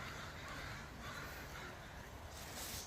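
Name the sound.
birds calling along a trail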